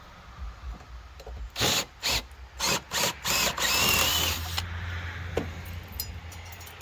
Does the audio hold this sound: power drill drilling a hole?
yes